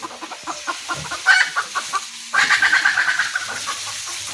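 Desi chickens squatting in a pigeon coop cluck in a quick, uneven series, with a brief lull before another busier burst of clucking follows, close and fairly loud.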